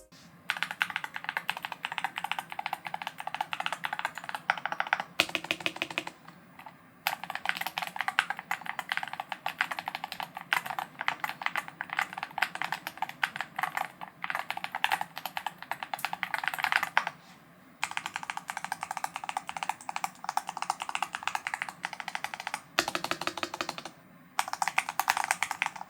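Fast, even typing on ROG Falchion Ace 75 HE keyboards produces a dense run of soft, muted clacks close up, with a few short pauses between bursts and no talking.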